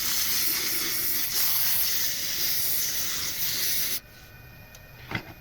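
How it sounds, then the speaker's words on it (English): Coarse sandpaper is rubbed hard over the curve of a wooden dibble, a dense, continuous rasping hiss that stops abruptly, followed by a quieter pause and a single light knock, all close up. "sometimes I find it easy to fare the curve with really aggressive sandpaper"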